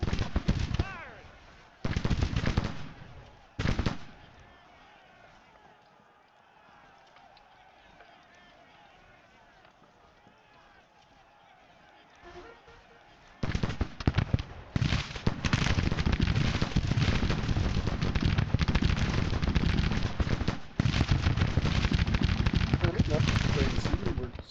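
Battle gunfire in the Grand Tactician strategy game, Battle of Winchester: short bursts early, a quieter stretch with ambient battlefield noise, then dense sustained volleys of musketry and cannon fire, with someone talking over it.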